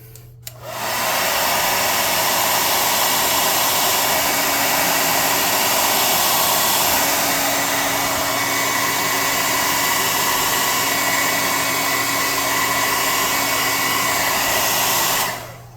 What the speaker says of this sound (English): let's hit this with the air gun and dry up brown.